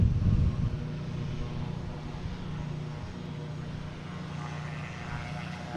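An Alaska Airlines Boeing 737-900 comes in to land on runway 27 at Boston Logan, a steady low jet rumble heard from a distance, with a brief louder burst at the start.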